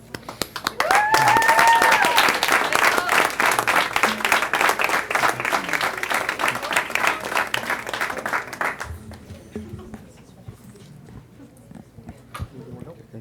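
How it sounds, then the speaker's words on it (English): A crowd at a school board meeting breaks into loud, sustained applause with some cheering, then the clapping fades out and a voice begins speaking. "let's give a big round of applause to our IVL League champion coach, Mr. Rodriguez."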